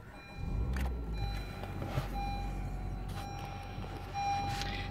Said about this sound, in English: Going to start the vehicle up for us.